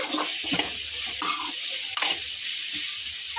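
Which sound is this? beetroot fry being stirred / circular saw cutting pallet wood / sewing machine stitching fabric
beetroot fry being stirred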